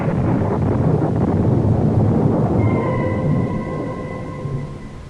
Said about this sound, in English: But again the clouds are gathering and the storm is at my heels.